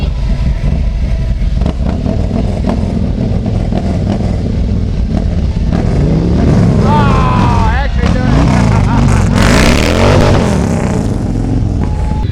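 Trike engines rumble and rev loudly at close range during a slow race at a party, with a dense crowd noise and shouting voices over the steady motor drone.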